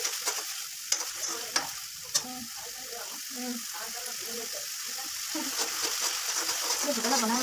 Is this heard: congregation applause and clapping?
no